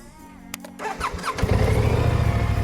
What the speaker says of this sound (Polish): to jest potężne brzmienie jednostki dwucylindrowej, 650 pojemności,